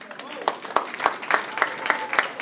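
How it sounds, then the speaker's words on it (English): An audience applauds at a university convocation ceremony, with brisk, fairly loud clapping that is steady and fast, heard together with a voice speaking over the hall. "Give her a big round of applause."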